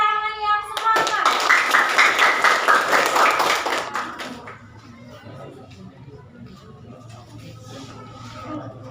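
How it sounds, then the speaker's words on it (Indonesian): A classroom audience claps for a student, a brisk burst of clapping about four seconds long that then dies away into quiet room noise with scattered faint taps and shuffling. "Beri tepuk tangan yang semangat"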